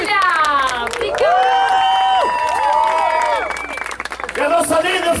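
A concert audience claps and cheers loudly, with high shouts and whoops rising over dense applause and a lively crowd roar throughout.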